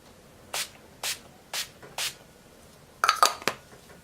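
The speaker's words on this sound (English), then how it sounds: "I am going to be using the Wet n Wild Photo Focus Natural Finish Setting Spray" Several short hissing sprays from a makeup setting spray pump bottle, a Wet n Wild Photo Focus Natural Finish Setting Spray, four evenly spaced puffs followed by a quicker burst of three, with no talking.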